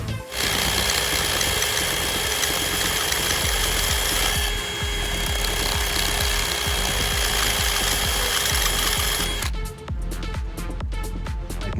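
A rotary tool's cutoff wheel grinds through the plastic battery casing of a Bird ES-400A electric scooter, a loud, steady high-pitched whine that runs nearly unbroken for about nine seconds, then gives way to scattered clicks and knocks.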